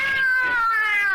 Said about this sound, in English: What's wrong with that cat?